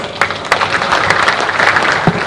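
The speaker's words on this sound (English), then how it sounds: "Could we again give them a round of applause?" An audience at an investment conference in Kisumu breaks into brisk, lively applause, a dense burst of clapping with a few sharper claps standing out.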